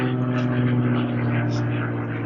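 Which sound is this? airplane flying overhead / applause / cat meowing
airplane flying overhead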